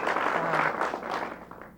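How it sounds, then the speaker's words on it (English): A crowd at a pool tournament breaks into brief applause, a dense spread of clapping that swells and then gradually thins out, heard alone without talk. "There's a little pump up by the crowd."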